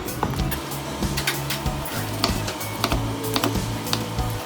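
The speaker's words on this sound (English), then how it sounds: "Now I'm going to cut into the pork belly." Knife slicing into tender cooked pork belly on a board, reaching a piece of bone, gives a run of soft crisp crackles and taps with a low steady hum beneath, close and fairly quiet.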